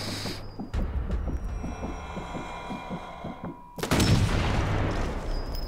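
Gunfire from the video game Sniper Elite 4: a few sharp rifle shots and thumping impacts, with a rhythmic series of muffled thuds in between and a loud, dense blast near the end.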